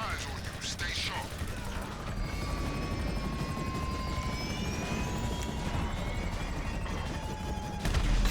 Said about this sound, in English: That chopper flying overhead has our vehicle.